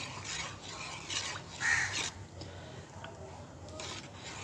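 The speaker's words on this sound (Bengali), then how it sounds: "এইবার আমরা করবো কি এই টোটাল জিনিসটাকে আমরা কিন্তু সুন্দর করে গুলিয়ে নেব" A liquid mix of tea liquor and alum stirred in a container, soft swishing and scraping strokes repeating at a gentle pace over a low background hum.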